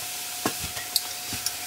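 A spoon stirs zucchini coconut curry in a pan, with a few soft scraping knocks over a low sizzle, close and fairly quiet.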